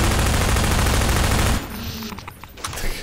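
Rapid automatic gunfire from the Half-Life 2 video game, a loud dense burst of shots for about a second and a half, then breaking into scattered fainter shots and clatter.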